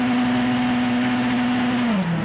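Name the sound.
Sebastien Loeb's Citroën rally car driving through the stage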